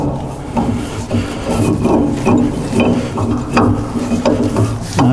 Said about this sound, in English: If you can take the weight on that, Tony, I'll try to get the thread in.